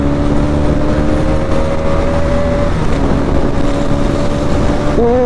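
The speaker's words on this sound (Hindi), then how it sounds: "तो देखो बाइक हायर आरपीएम पे है और मेरे को अब गियर निकालने हैं, डाउन शिफ्ट करने हैं।" Motorcycle engine running at high RPM in sixth gear as gears are knocked down in a clutchless downshift, a steady loud drone with a pitch shift near the end.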